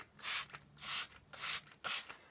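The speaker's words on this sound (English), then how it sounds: "I spray down the tank, like this, if you guys can see it" A handheld spray bottle mists the inside of a crested gecko's tank in four quick, soft hissing bursts, each about half a second long with short pauses between, heard close up and quiet.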